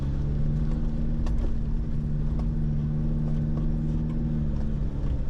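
A 4WD vehicle grinding up a steep alpine track in the Victorian High Country, its engine droning at a steady low pitch, with occasional light knocks and crunches from the rough surface.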